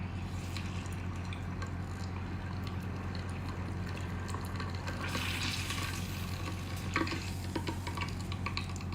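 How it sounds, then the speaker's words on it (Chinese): Centipedes deep-fry in bubbling oil with a continuous crackling sizzle, and stirring scrapes and clinks come and go close by. "炸蜈蚣还不熟，咱们再让它沸腾一会儿"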